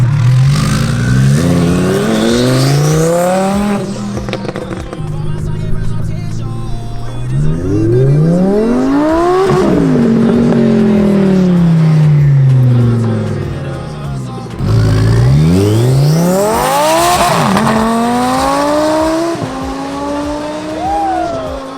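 A Ferrari F40's twin-turbo engine revs hard and close, rising and falling in long loud sweeps with brief tire squeal, repeated several times.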